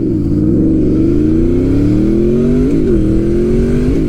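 A 2006 Honda VFR800 motorcycle accelerates hard, its engine note climbing steadily in pitch through a gear, dipping briefly near the end before rising again, loud and close throughout.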